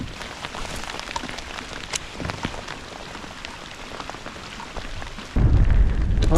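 Steady rain falls outdoors during autumn bass fishing. It makes a dense, close hiss of drops on the surface, with sharper patters throughout and a sudden loud gust-like rumble near the end.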